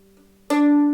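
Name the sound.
in-tune mandolin string being plucked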